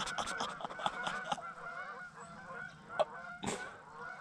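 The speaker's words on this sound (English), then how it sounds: "obviously you can hear the geese." Geese honk repeatedly from the water near a canoe on a rural duck hunt, with several loud, close calls in quick bursts followed by scattered single honks.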